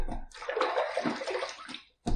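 Water splashes up onto a face before shaving at a bathroom sink, a close, wet rush of sloshing and dripping lasting about two seconds, followed by a brief pause and another short splash.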